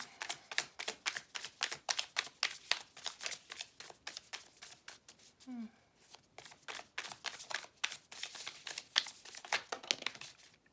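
A deck of playing cards is handled and shuffled up close in a rapid rhythmic patter of riffles and flicks, with a short lull midway.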